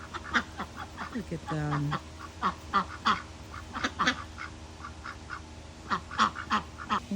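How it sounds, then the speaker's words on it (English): Ducks let out of their pen on a country farm in the morning, a flock quacking in repeated bursts close by, while a person speaks briefly. "Got the ducks out and taken care of."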